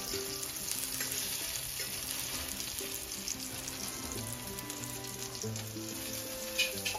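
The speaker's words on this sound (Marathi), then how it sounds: "मी आता पलटते पोलो." A clam pancake (pola) fries on a wood-fired stove, giving a faint, continuous hiss and crackle that holds steady throughout, with no voices.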